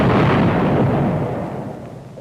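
A deep industrial explosives blast booms loudly and rumbles outward, its heavy low roar slowly fading as the echo decays.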